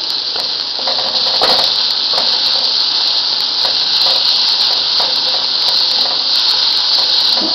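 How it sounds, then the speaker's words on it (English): Onions sauté with salt in a pan for coriander gunpowder rice, giving a loud, continuous hiss with occasional stirring scrapes and no talking. "just sauteing it so that the crunchiness also retained in this"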